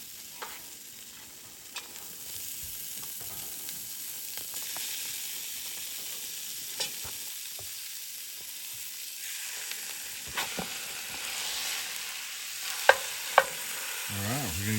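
Ground beef sizzles and crackles in a pot over a camp fire for Texas chili at Big Bend, a steady close frying hiss with occasional stirring clinks and scrapes, and no talking.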